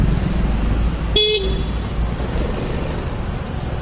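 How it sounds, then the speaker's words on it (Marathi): Dense traffic rumbles along the Mumbai–Goa highway during construction, a loud, continuous low roar of passing vehicles, broken by one short car horn toot partway through. "ट्रॅफिक खूप आहे सध्या, काम चालू असल्यामुळे"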